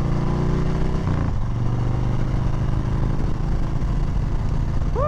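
A 2020 Harley-Davidson Softail Street Bob rumbles steadily on the road, its V-twin engine note loud and continuous with a shift in pitch around the first second and constant wind rush throughout.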